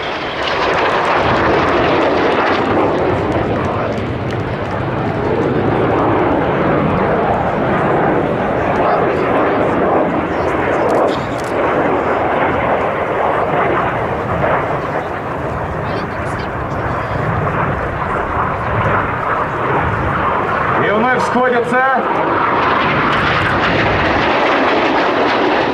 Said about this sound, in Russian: Там четверка самолетов «Эйнир» в построении боевой порядок выполнит двойной переворот через крыло